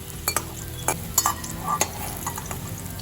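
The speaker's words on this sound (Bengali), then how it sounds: "মিডিয়াম টু হাই ফ্লেমে কুমড়োটা ভালো করে ভেজে নেব" Pumpkin pieces frying in mustard oil over medium-high flame, a close sizzle broken by scraping and clinking stirs of a spatula against the pan.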